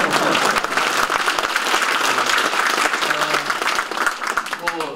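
A lecture audience applauds in a hall with dense, sustained clapping that fills the whole stretch, with a faint voice underneath at moments.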